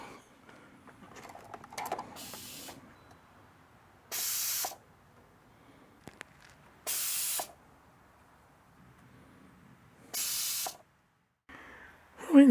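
Pressure cooker venting steam while cooking spicy tomato ketchup: four separate loud hissing bursts, each about half a second long, spaced a couple of seconds apart over quiet kitchen background.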